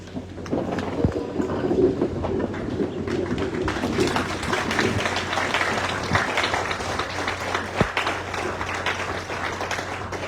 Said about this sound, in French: Je vous invite tous, en ce moment même, à vous lever juste un petit moment pour applaudir chaudement cette prouesse de longévité